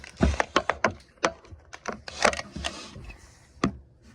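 Scissors piercing and cutting open the cardboard and plastic packaging of a Grecom PSR-300/PSR-400 scanner, heard as a close, quiet run of sharp snips and crackles, irregular and uneven, with no one speaking.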